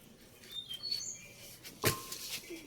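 Baby birds give a few faint, thin chirps close by, in short high tweets separated by quiet gaps and soft rustling.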